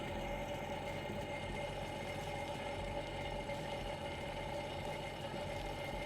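A Sea-Doo watercraft engine runs steadily at idle during a freshwater flush, a faint and constant hum with no talk.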